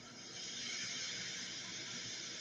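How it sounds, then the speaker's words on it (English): Gordon, a steam engine, lets off steam in a steady, soft hiss that rises slightly and holds for a couple of seconds. "He just let off steam feebly"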